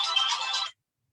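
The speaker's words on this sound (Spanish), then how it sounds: "Disculpen por el ruido estrepitoso del teléfono." A telephone ringtone during a Chilean climate-change webinar: one short electronic ring burst, clear and fairly close, that cuts off abruptly into silence.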